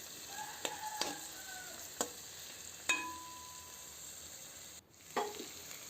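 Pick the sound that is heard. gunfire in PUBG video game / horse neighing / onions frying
onions frying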